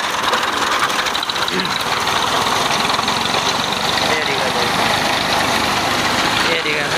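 A tractor idling on a farm during the wheat harvest, a loud, steady engine rumble running throughout with a voice talking over it.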